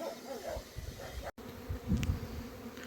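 Bees buzz at an apiary set up on rapeseed fields, a dense, fairly quiet drone of many insects with a few louder passes close by and a brief dropout.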